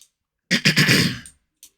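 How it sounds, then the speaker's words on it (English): A person clearing their throat, one short rasping burst of a few pulses followed by a faint tail, close and alone. "Clear my throat because I know that annoys a lot of people"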